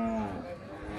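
Kangayam cattle low at a busy cattle market, with one loud, sustained moo near the start that fades into crowd noise and background chatter.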